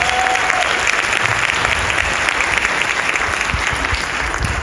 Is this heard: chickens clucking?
no